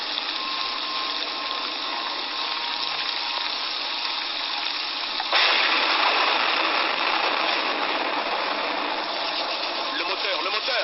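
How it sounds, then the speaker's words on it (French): Rain pours during a thunderstorm on a bush taxi journey, a steady dense wash that suddenly grows louder halfway through, with a low engine-like rumble underneath. "La pluie a commencé à tomber"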